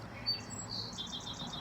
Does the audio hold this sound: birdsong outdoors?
yes